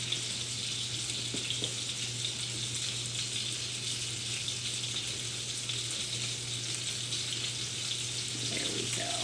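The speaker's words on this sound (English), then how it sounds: "our sausages have been sizzling nicely" Steady broadband hiss of sizzling sausages frying in a hot pan, continuous and even throughout, with a low electrical hum underneath.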